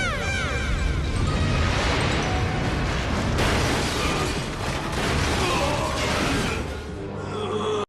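Cartoon explosion as Agumon blasts a roof, a loud sustained crashing roar with debris-like rumble and bursts, fading slightly toward the end.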